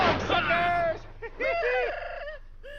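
Cartoonish chickens cluck and squawk in a Foster Farms commercial, a run of bright warbling bird calls, close and fairly loud, with a voice-like quality throughout.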